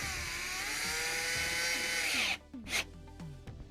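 A power tool tightens a radiator hose clamp on a GMC Yukon/Chevy Tahoe, whirring loud and steady for over two seconds, then stopping and giving a couple of short bursts up close.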